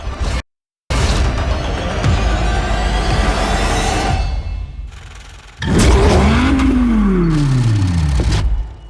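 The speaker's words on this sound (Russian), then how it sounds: "следующий звук мотора на этом контрасте покажется более мощным" A powerful engine in a Pennzoil car ad, The Last Viper, whooshes past loudly, cuts out briefly, then roars back and revs up through rising gears, close and intense.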